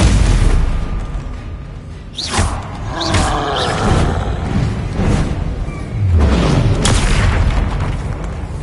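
Confringo blasting curse explosions in the video game Hogwarts Legacy: several deep booming blasts with bursts and whooshes, loud and close, layered over a busy battle soundscape.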